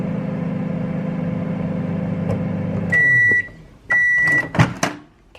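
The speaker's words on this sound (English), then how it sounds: "move this to the microwave" A microwave oven heating lavender candle wax hums steadily, then two loud sustained beeps sound as it finishes, followed by the clunk of the door and some handling, all close.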